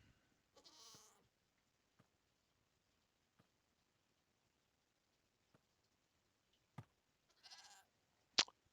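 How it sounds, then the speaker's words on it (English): Goat bleats in Minecraft: two short bleats about seven seconds apart, with scattered faint clicks between them and a sharp tap at the end, all over near silence. "Hello, Mr. Goat. Please don't knock me down."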